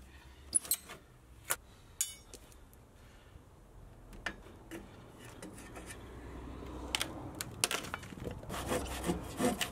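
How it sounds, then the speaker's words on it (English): A thin, fine-toothed tenon saw finishes a cut through a 4-inch wooden fence post, giving close rasping strokes that start sparse and uneven and then settle into a denser, steady back-and-forth rhythm. "So I use a tenon saw that's quite thin to finish off the cut the best I can."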